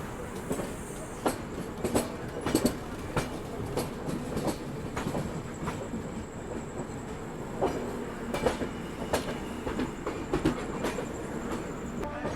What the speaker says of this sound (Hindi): जी हाँ, आज़ाद हिंद एक्सप्रेस।